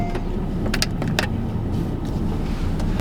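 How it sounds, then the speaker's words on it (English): A car cruising along in light traffic on the commute to work, with a steady low road and engine rumble running throughout, a few faint clicks and rattles inside the cabin, and no talking. "I've been driving for a little bit, not too long"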